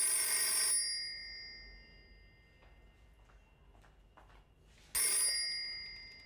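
An old telephone bell rings loudly in a bright metallic trill, pauses for a few quiet seconds with faint ticks, then rings again, in a domestic drama scene.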